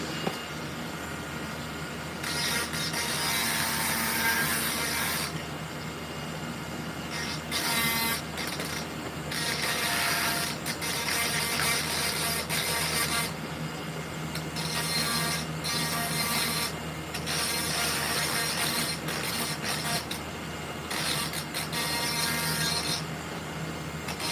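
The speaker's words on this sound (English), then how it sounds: "I'll use the tip of the Dremel" A Dremel rotary tool grinds at the tip of a saw, producing repeated harsh, raspy bursts of whirring contact noise separated by brief pauses, moderately loud and close.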